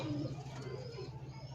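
Low, soft pigeon cooing repeats steadily through the short clip, close by, with a faint background hum.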